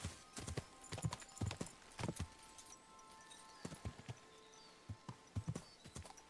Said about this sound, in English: The hardest part of this game is riding a horse.